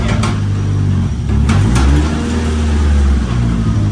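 Nissan S15 engine revving in neutral, loud and close, with rising and falling throttle blips over a deep rumbling idle.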